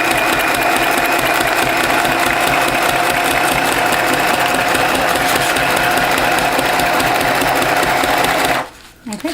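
A sewing machine runs a continuous straight stitch, its needle chattering in a fast, steady mechanical rhythm close up, then stopping abruptly near the end.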